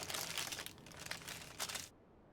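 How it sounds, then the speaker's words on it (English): Playing cards wrapped in coffee-dyed paper crinkle and rustle up close, with several bursts of dry crumpling that stop abruptly. "Sorry for the crinkling noise"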